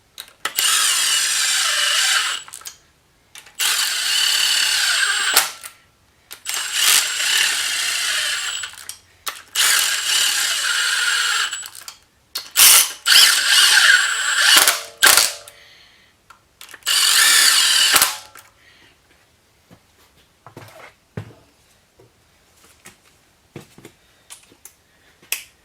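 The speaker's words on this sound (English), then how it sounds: "Now I'm going to run all the bolts down." A power tool and ratchet run down the head bolts on a Subaru WRX wagon engine during a head gasket job, in several loud close bursts of whirring and clicking separated by short pauses, then falling silent.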